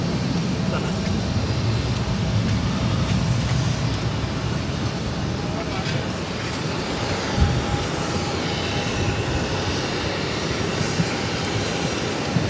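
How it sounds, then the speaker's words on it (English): American Airlines Airbus A321 taking off at Boston Logan, a broad jet roar heard from a distance that swells and lingers, with a voice speaking over it. "This is American Airlines 217 taking off to Miami, Florida on the A321"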